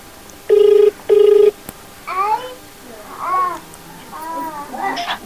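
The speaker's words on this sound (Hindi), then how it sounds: "आवाज जा रही, घंटी जा रही।" Two ring tones from a phone line sound in quick succession, then voices begin speaking.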